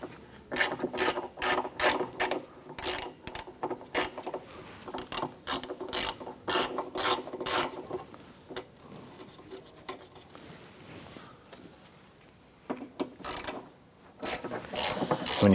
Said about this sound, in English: Now we're going to use a T20 Torx bit to remove these two screws.